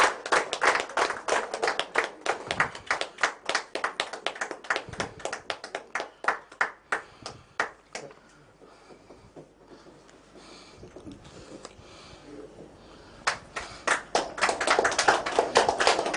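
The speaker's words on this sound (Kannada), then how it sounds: "ಜೋರಾದ ಚಪ್ಪಾಳೆ" Loud applause from the audience at a business group's prize-draw event, with many hands clapping in quick bursts that fade into a quieter lull and then swell again.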